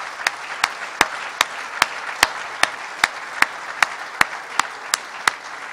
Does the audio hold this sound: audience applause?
yes